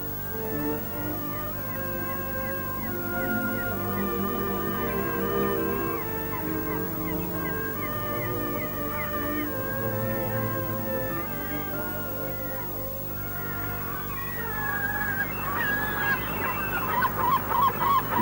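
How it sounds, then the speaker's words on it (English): Seagulls scavenge over a fishing pier at Peterhead, filling the scene with a dense, continuous clamour of overlapping squawks and cries. The calls grow sharper and more piercing near the end. "Scavenging seagulls descend like a cloud on the pier"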